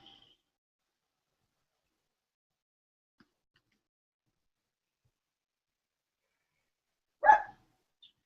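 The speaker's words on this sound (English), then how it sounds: "my puppy is barking." A single short puppy bark breaks an otherwise near-silent room, sharp and fairly close.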